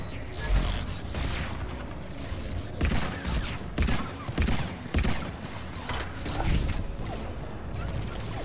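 Anti-aircraft guns firing in the Mass Effect video game, dense bursts of rapid booming shots and rumbling impacts, loud and sustained across the whole stretch, with a voice talking faintly in places.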